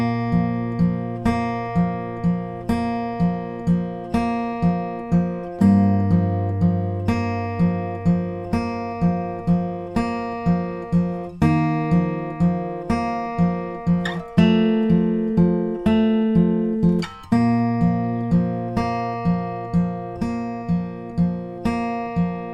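Fingerpicked acoustic guitar plays the intro of a ballad, steady arpeggiated plucked notes over bass notes, close and clear, with no voice.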